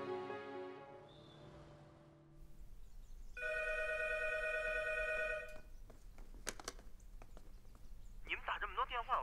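A telephone rings with a steady, bright electronic tone for about two seconds mid-clip, close and fairly loud, while voices talk before and after it.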